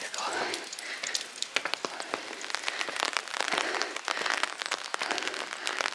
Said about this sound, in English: it's raining kind of heavily now